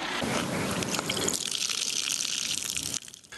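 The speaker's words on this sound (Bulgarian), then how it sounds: "водата отново потече от чешмите" Water flowing from municipal taps after burst pipes were repaired in Vratsa, Bulgaria: a steady, loud gushing rush that eases off near the end, with no talk.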